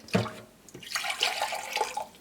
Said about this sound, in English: And now if I pour this water out into my jug,